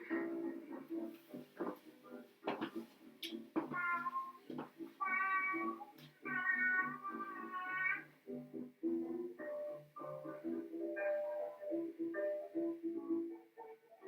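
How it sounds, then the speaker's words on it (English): Several cat meows and drawn-out caterwauls open a 1920s song, a string of separate cries in varying pitch with brief gaps between them, fairly close and clear. "this will start with cat noises, which I'm going to ignore"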